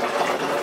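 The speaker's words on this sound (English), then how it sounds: "going ahead and filling it up in our bathroom in the bathtub, because it's quicker than the sink" Water gushes steadily from a tap into a bathtub in a country home with low water pressure, a brief, close, even rushing fill sound.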